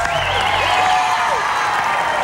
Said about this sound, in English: please, keep that applause going for our last performer of the night.